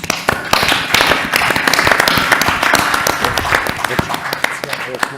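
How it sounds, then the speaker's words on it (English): Dense, loud audience clapping fills a conference hall at an event on smart villages and rural areas, steady throughout with sharp individual claps standing out. "So one applause, I guess."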